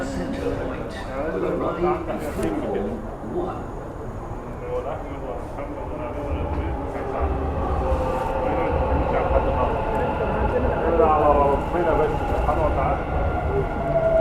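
A Dubai Metro train rumbles and whines through a station, the low roar building over several seconds, with people talking nearby.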